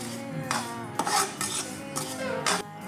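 A spoon scrapes and taps against a metal plate as besan laddoo mixture is spread onto it, several short metallic strokes close by in an otherwise quiet kitchen.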